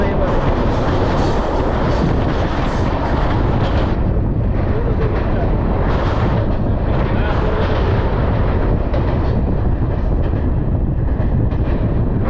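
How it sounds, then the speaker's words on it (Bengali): Train travelling near Sevoke railway station in the Dooars, a loud continuous rumbling roar with rattling and wind buffeting, steady throughout from on board. "এরপর ট্রেন একের পর এক ট্যানেল এবং চা বাগানের পাশ দিয়ে যাওয়ার খেলাতে মাতলো।"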